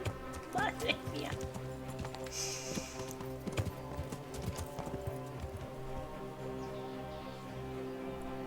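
Horse hooves clip-clop steadily in Kingdom Come: Deliverance, a rhythmic, fairly close sequence of hoofbeats continuing throughout while a person talks over them and game ambience sits underneath.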